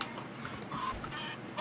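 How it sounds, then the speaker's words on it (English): A chicken in the survival game 7 Days to Die clucks in faint, scattered bursts against soft ambient in-game noise, with no talking. "I'm going to stress this chicken out"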